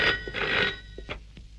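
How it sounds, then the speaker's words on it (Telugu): An old landline telephone rings in a film scene, with two or three short bell bursts followed by fainter echoing rings, with no speech over it. "ముందు మీరు దయానందానికి ఫోన్ చేసి,"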